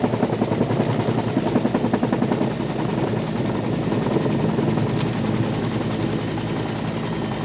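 A Vietnam-era medevac helicopter in flight heard from on board, its loud rotor chop a constant rapid thumping over deep engine drone throughout.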